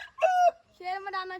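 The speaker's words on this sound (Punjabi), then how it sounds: "ਅੱਛਾ ਜੱਟੂ ਦਾ ਕੁੱਕੜ ਕਾਣਾ ਵੀ ਹੋ ਗਿਆ" A one-eyed rooster kept for fighting crows once at close range, a loud, tonal, broken call in two parts lasting just over a second, alone without talk.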